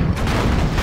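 A heavy, booming burst of gunfire from Command & Conquer: Generals, played in a USA campaign mission, rumbles low and loud for under a second.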